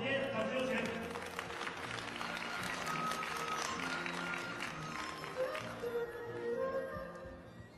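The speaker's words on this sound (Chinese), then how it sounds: "掌声有请中国选手吕浩天，掌声有请。" Audience applause fills a snooker hall at the 2012 China Open as a player is introduced at table two, with steady, dense clapping throughout and an announcer's voice running over it.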